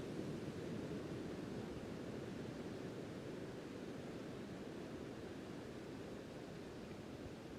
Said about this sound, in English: We're listening to the quiet ocean behind us